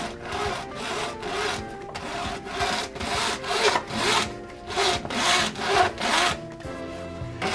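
Hand saw cutting through wood just below a marked line, with steady back-and-forth rasping strokes in a regular rhythm, close and fairly loud throughout.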